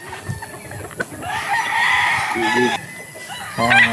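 Tornado gamefowl roosters on a farm in Bulacan crow loudly and close by, with one long call and then another rising at the end, mixed with clucking and faint farmyard background.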